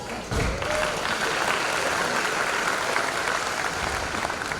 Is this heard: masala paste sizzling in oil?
no